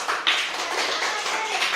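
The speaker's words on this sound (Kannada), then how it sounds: "ಚಪ್ಪಾಳೆ ಹುಡುಗರು ಎಲ್ಲರಿಗೂ" Schoolchildren in a classroom applaud their classmates, giving a dense, steady patter of many small hands that is close and loud and fills the whole moment without speech.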